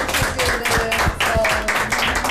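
A group of people clap in a quick, steady rhythm at a Turkish TV show celebration, a dense run of claps over a couple of seconds with faint chatter underneath.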